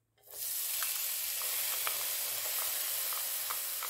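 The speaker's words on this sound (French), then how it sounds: "de l'huile d'olive pour faire revenir donc les champignons ainsi que l'oignon et l'ail" Garlic, onion and mushrooms sizzle steadily in olive oil in a pan, a dense close frying hiss that starts abruptly and holds even, with small crackles and pops scattered through it.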